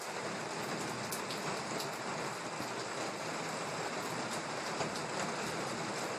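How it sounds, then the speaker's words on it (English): Heavy rain pours down steadily, a dense, constant hiss with scattered louder drops, no voices. "listen to this, it was raining"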